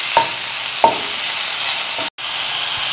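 Crushed chillies are stirred into a mixture in a hot frying pan under a constant loud sizzle, with two clear scrapes of the spoon and a brief cut to silence near the end.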